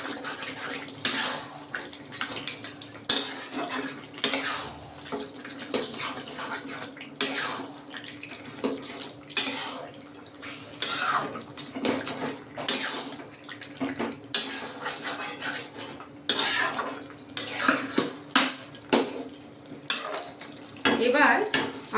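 Mutton do pyaza being stirred in a pot: repeated scraping, clinking strokes of a spoon against the metal in an uneven rhythm, close and moderately loud, with a low steady hum beneath and no talking.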